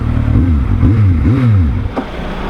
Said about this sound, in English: I like the engine tone of this bike a lot more though.